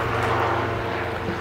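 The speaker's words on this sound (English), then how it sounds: "Ooh, helicopter taking off." A helicopter lifts off near a new-build house in Seguin, Texas, its engine and rotor making a steady, fairly loud whirring drone that runs unbroken and fills the whole moment.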